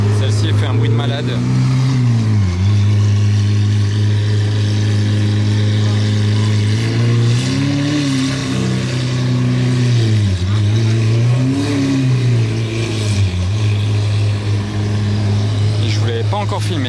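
Mercedes S63 with its exhaust valves closed, revving loudly nearby with repeated rising and falling throttle blips over a steady deep idle, with people talking over the engine throughout.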